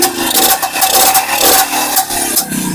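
An old motorcycle engine starts up, giving a loud, continuous rough roar with rattling and scraping overtones and no pause or talk.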